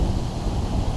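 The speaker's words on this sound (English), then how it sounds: "It's quite windy though." Wind blowing outdoors in stormy hurricane-remnant weather, a steady broadband rumble buffeting the microphone, loud and continuous with no voices.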